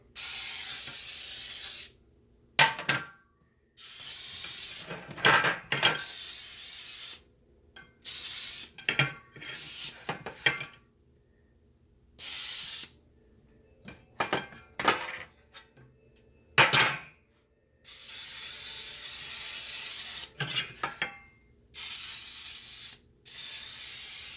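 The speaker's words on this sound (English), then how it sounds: "we're going to go ahead and spray our pan" Repeated bursts of cooking spray hissing onto baking pans, loud and close, in short and longer blasts separated by pauses, with faint clinks of pans between.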